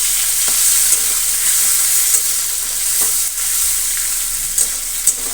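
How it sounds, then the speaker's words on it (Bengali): Shrimp seasoned with salt and turmeric fries in a pan, giving a constant hissing sizzle up close with a few light stirring clicks. "চিংড়ি মাছটা একটু লবণ হলুদ দিয়ে ভাজা ভাজা করে দিয়ে"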